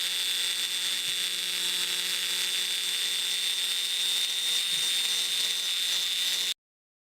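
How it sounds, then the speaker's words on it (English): A Dremel rotary tool spinning a bit against bamboo, a steady high-pitched whine with a faint hum beneath, close and unbroken until it cuts off abruptly near the end. "We've got this Dremel bit that we're going to use."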